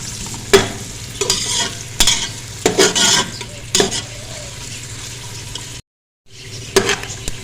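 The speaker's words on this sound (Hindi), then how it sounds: "इसको थोड़ा सा फ्राई करेंगे।" Onion and ginger frying in a pan for aloo methi, a steady loud sizzle with repeated stirring scrapes and clanks, briefly cutting out before resuming.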